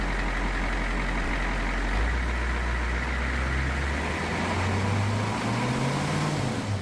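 A truck engine, known as Big Red, runs steadily and then climbs in pitch as it is revved during a sensor test, with a loud, continuous rumble and no talking.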